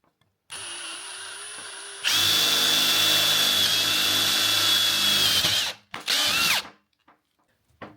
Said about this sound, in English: So we got the drill bit that works for that.